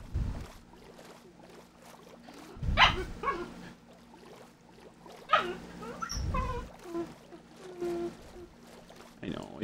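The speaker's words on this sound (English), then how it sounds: "She's a little puppy." A small puppy dog in Minecraft yips and barks in short bursts, mixed with a few louder thumps, while people talk over it throughout.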